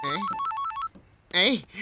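A telephone rings with a rapid, warbling electronic trill in a single burst, loud and close, with voices talking before and after it.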